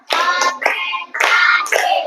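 Counted clapping routine in an Indonesian classroom, bursts of hand claps falling in a brisk rhythm under a loud chorus of chanting voices, close and energetic.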